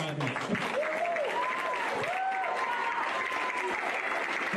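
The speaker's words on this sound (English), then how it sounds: "I think we need an extra round of applause for our drummer, Ashton Proctor" An audience at a high school Christmas concert applauds the junior high band's drummer, a steady wash of clapping with cheers and whoops rising above it throughout.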